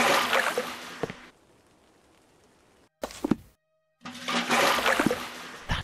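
Cold water splashes onto a man in the Sherlock Holmes Versus Arsène Lupin video game: a loud, rushing splash lasting about a second, then near silence, a brief thud, and another long watery rush.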